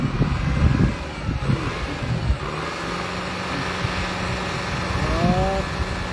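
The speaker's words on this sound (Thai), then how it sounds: "ปั่นโรตารีแล้วพี่น้อง" Small rotary tiller engine running steadily nearby in a rural setting, a continuous low motor drone with a brief rising whine near the end.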